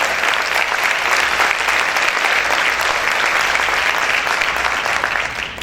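A church congregation applauds loudly during a sermon, a dense, sustained wash of many hands clapping together that continues steadily for several seconds before starting to fade.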